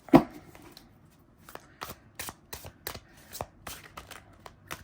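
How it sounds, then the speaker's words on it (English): Linen-finish Aquarian Tarot cards being shuffled, a sharp riffle at the start followed by a series of quick, light card snaps and slides at close range. "Linen is just like so beautiful of a shuffle"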